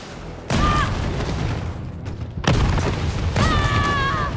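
Rocket launcher explosions in Resident Evil 3 boom three times in succession, each a loud, heavy blast with a long rumbling tail that overlaps the next.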